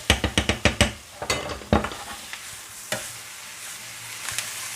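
Sliced mushrooms sautéing with leek and onion in a pan, opening with a quick run of loud scraping stir strokes, then a softer steady sizzle with occasional utensil knocks, close and without talk.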